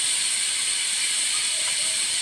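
A loud, steady hiss of steam jetting continuously from a pressure cooker, bright and close, with no pauses.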